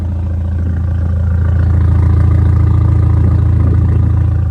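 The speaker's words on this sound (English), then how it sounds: "Alright guys, car is on. As you can see, it is a little bit louder than usual due to the fact that there's more gas inside of it." On a cold start, a 2017 Mercedes CLA 350 with a 2.0 turbo engine, fitted with 850cc AMG 63 injectors, idles loudly and steadily up close in a deep, even rumble that swells slightly, with no voices.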